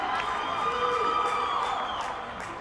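Football crowd at a U17 boys final, Woodbridge vs Vaughan, cheering and whooping in a steady roar through the stands, with whistles and shouts rising above it.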